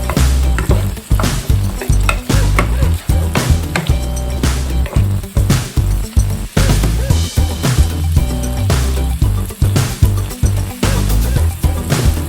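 Chicken afritada fries in a hot pan while being stirred, loud close sizzling broken by rhythmic scraping and clattering strokes of the utensil against the pan, continuous throughout with no voices.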